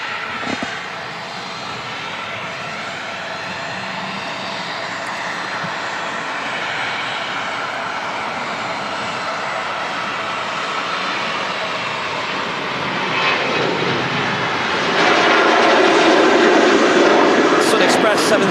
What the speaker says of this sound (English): 737-800 departing there